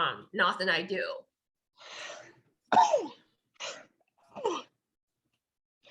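A single sneeze bursts out between stretches of conversation during an indoor training session, sharp and close, with people talking before and after it.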